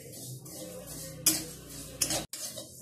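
Goda masala spices dry-roast in a pan, with soft crackling and scraping as they are stirred, broken by a few sharper clinks of the utensil against the pan.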